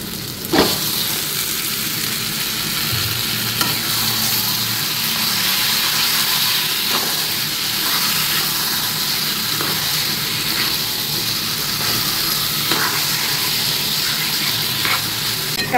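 Spice paste sizzles steadily as it fries with a little water in a pan, a loud, continuous crackle with occasional stirring scrapes and taps.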